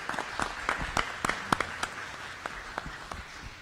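Scattered audience applause at a county commissioners' budget hearing, a small group clapping briefly and thinning out, fairly close.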